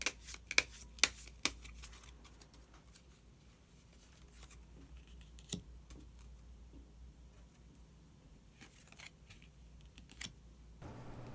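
Tarot cards are shuffled and drawn, giving quiet, close papery flicks and soft slaps. A quick burst of snaps opens the passage, followed by scattered light rustles and taps with no talk.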